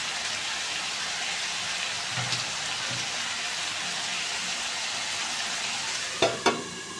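Chicken leg pieces sizzle steadily in hot oil in a pan, a constant close crackling hiss, with a couple of sharp clinks of a spatula scraping the pan near the end.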